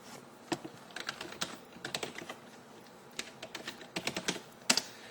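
Fingers tap out login details on a computer keyboard in short bursts of quick, close clicks with brief pauses between them.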